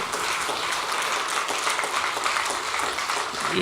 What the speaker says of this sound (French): Je pense qu'on peut applaudir Marie-Laure Lambert.